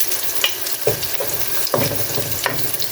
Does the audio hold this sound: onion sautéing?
yes